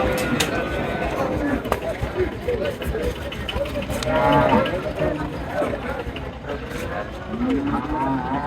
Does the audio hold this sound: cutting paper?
no